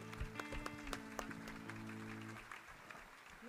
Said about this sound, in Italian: Accogliamolo con un applauso, no?